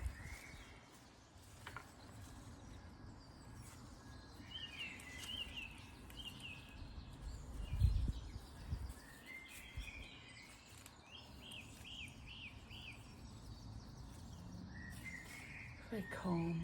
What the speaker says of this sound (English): Very calm with the bird song.